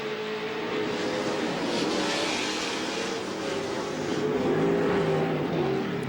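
Race trucks roar flat out at CORR Las Vegas in 2007, a steady, loud engine drone with slight swells as they push hard around the off-road course, no voices over it.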